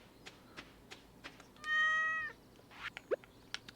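A cat meows once in the Stardew Valley farming video game, a single clear drawn-out meow heard alone amid soft, sparse game ticks.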